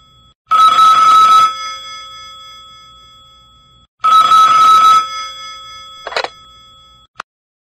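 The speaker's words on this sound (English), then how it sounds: "At that moment, the telephone rang." An old-style telephone bell rings in two long loud bursts with a pause between, followed by a short partial ring and a faint click, alone in an otherwise silent room.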